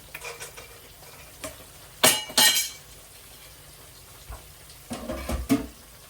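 Chicken livers cook in butter in a pan, soft background sizzle broken by several sharp stirring and utensil clinks against the pan in short bursts, close by and with no speech.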